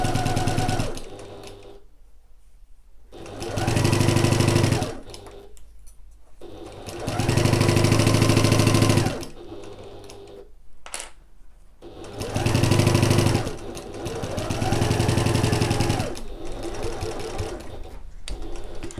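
Sewing machine stitching fabric under the presser foot, rapid mechanical whirring in several bursts of a second or two, separated by short quiet pauses, heard close and loud.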